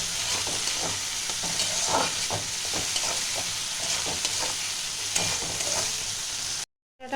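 A mustard, cumin and chilli spice paste with turmeric fries in a pan, giving a close, even sizzle with rhythmic scraping stir strokes, no talking, cutting to silence right at the end.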